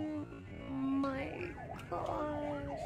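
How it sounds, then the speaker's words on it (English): An ambulance siren wails in rising and falling sweeps on a street after a traffic incident, fairly faint and distant, with an excited voice nearby. "the ambulance is here"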